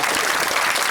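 A church congregation clapping together, a brief dense burst of loud, steady applause filling the room.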